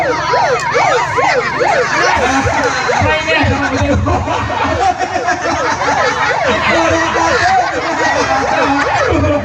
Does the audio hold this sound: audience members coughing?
no